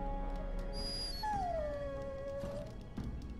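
A dog in the game Dragon Age Origins lets out a long, falling whine, close and clear over a low game-ambience hum, with a faint higher tone fading early on.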